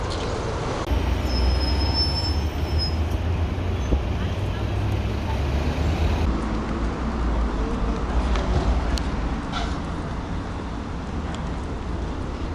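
A Tbilisi metro train rumbles loudly and steadily through the underground, its wheels squealing against the rails over a dense, continuous roar.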